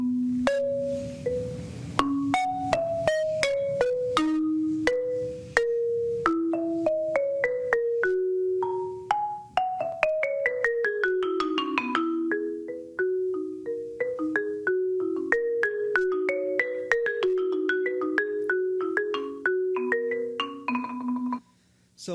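Solo marimba playing a bright melodic line of quick, ringing mallet strikes with rolled tremolo passages, close and clear with no talking.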